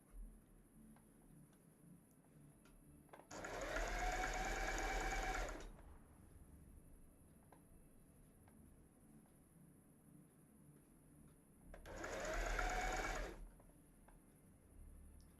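Sewing machine stitching jersey fabric for a cosplay costume, heard in two short whirring runs of about two seconds each, separated by a quiet pause with a faint steady hiss in the background.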